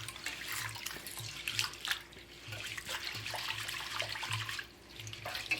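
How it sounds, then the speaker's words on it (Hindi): Sabudana (sago pearls) being washed by hand in a pot of water, with steady sloshing and swishing of water throughout, fairly close and continuous, with a faint low hum beneath and no talking. "इसको हम 2-3 बार अच्छे से वॉश कर लेंगे पानी से"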